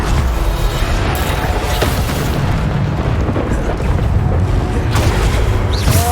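Bombarda spell explosions in the video game Hogwarts Legacy, a continuous stream of loud booming blasts and bursts filling the clip with dense, rumbling low-end impact noise.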